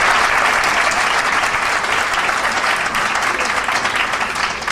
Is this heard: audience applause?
yes